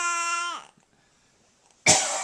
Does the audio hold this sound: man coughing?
yes